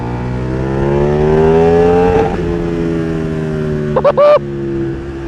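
A KTM 1390 Super Duke R Evo motorcycle roars loud and close at speed on a road, its engine note rising, then a quick burst of two or three sharp exhaust pops before it settles back to a steady drone.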